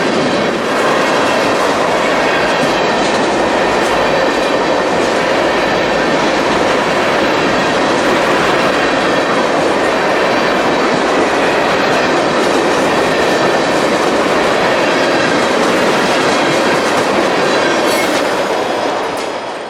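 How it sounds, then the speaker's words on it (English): An empty ethanol tank freight train rolls past on the line in Georgia, a loud continuous rumble of wheels with rhythmic clickety-clack and occasional squeals, close by and steady throughout. "65Q is an ethanol tank train, empties off the FEC in Jacksonville,"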